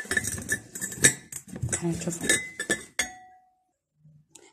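White ceramic serving dishes clink and chink repeatedly as they are unpacked and handled, bright close knocks in quick irregular bursts, fading to near silence at the end, with someone speaking briefly.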